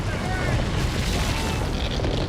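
A deep, continuous earthquake rumble as the ground splits open along a moving fault, a sustained low roar with broadband debris noise throughout, cinematic sound effect for a science fiction adventure film.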